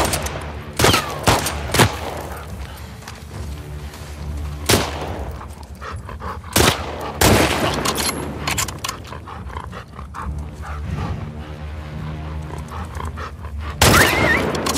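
In the video game The Last of Us Part II, a dog is shot amid repeated loud gunfire bursts, with sharp shots spread across the scene, some dog panting and barking, and a player speaking faintly.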